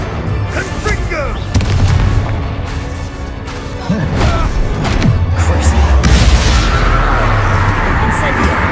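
Repeated Confringo blasting-spell explosions in the Hogwarts Legacy video game, booming impacts and crashes layered over busy combat noise, with a voice calling out spells throughout.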